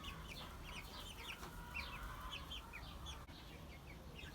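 A rooster in a coop gives soft, scattered clucks and chirps over steady background noise, faint and somewhat distant, with no talking.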